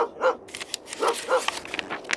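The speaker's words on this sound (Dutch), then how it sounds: "De hond komt blaffend op Dikkie Dik afgerend." A dog barks in a few sharp bursts, fairly close, with brief yips between them and no talking.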